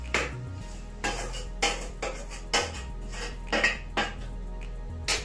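Fried omena fish being moved from a pan onto a plate in a home kitchen, with a series of clinks and scrapes of utensil against dish at irregular intervals, close and fairly loud with no speech.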